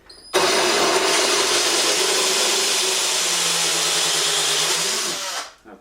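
A Porcadrill 365 diamond-tip drill bit, 40mm, grinds steadily through wetted tile for about five seconds, a loud continuous whining drone with no talk, then spins down.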